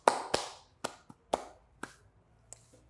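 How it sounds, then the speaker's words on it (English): Hand clapping, about six separate claps at an uneven pace, close and crisp with short decaying echoes, followed by a fainter tap. "It's a clap."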